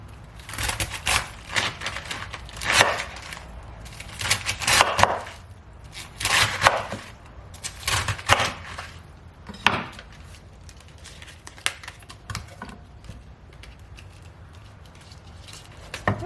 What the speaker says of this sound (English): we'll just cut off the end and then we'll just cut them into small squares